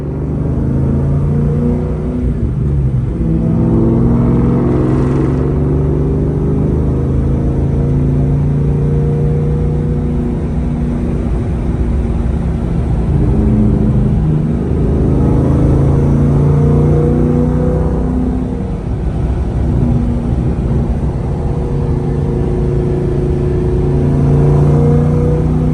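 A Terminator Cobra on new Nitto NT555 G2 tires drives with a loud, close engine rumble, rising and falling with acceleration over a steady road roar, with no voices.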